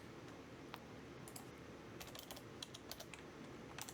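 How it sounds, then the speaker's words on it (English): Fingers type on a computer keyboard in quick irregular bursts of soft clicking keystrokes, close and quiet, with no talk. "I really can't type today."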